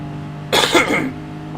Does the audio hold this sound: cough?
yes